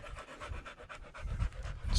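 Dogs panting steadily nearby in a workshop shed, a quick rhythmic run of breathy huffs that continues through the whole stretch without any talk.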